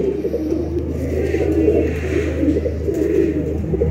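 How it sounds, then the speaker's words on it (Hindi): Sialkoti pigeon cooing in low, continuous murmuring tones, steady and close, with faint background activity and no clear speech. "पूरे साइज में कबूतर"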